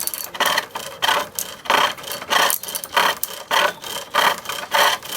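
Green wood turned on a pole lathe: loud, close rhythmic scraping bursts of the tool on the spinning workpiece, roughly two per second, each cut pausing briefly as the treadle returns, steady and unbroken by talk.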